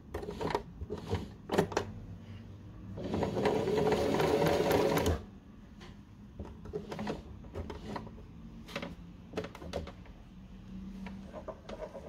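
A sewing machine backstitches a satin cap in one loud, rapid burst of stitching lasting a couple of seconds, surrounded by quieter handling clicks and taps of fabric and machine, with no talk.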